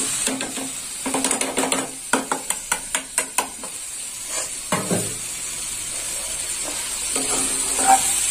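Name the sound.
stir-frying yardlong beans with fried potatoes and spices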